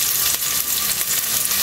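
Bacalao salt cod dropped into a pan of sautéed onions, giving a loud, continuous close-up sizzle that stays even from start to finish.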